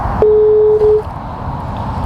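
A phone call tone plays through a speakerphone: one steady, loud beep lasts about three-quarters of a second over faint background hiss, with no talking.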